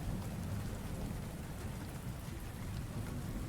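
Rain and thunderstorm ambience plays during a stream, a dense constant hiss of rainfall over a low rumbling bed that holds steady the whole time.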